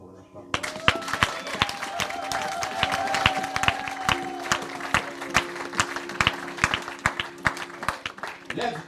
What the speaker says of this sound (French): on acclame pour la parole